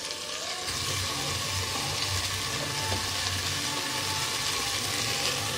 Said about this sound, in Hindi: 4 से 5 मिनट हम इसको अच्छी तरीके से भूनेंगे।